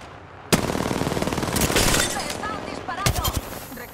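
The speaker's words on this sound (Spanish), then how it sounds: "Me están disparando." Rapid automatic gunfire from the battle royale game Apex Legends rattles loud and close in bursts, with sharper shots punctuating the volley and a voice speaking over part of it.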